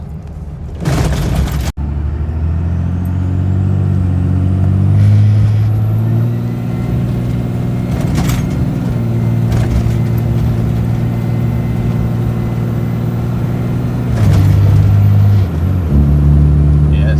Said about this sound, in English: I'm gonna whip this thing around and give it a pull.